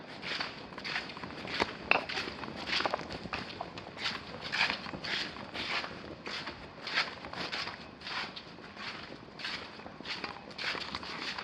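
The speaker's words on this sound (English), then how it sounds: "It sounds like I'm dragging my feet" Soft, scuffing footsteps of feet in booties dragging along at a steady walking pace, each step a brief brushing scrape, fairly close and quiet.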